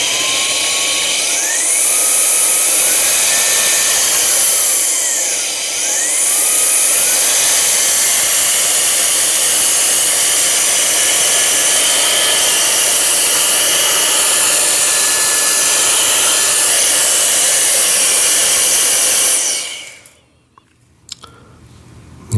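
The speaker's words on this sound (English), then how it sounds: "just a quick demo of the vacuum feature" Turbo Jet 2-in-1 air duster running in vacuum mode at full power, a loud, steady high-pitched whine that dips and rises briefly near the start, then cuts off abruptly after about twenty seconds, followed by faint handling noises.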